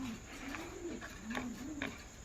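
Lahore pigeons coo softly in a loft, a few low rolling coos repeating close by with faint rustles and quiet background.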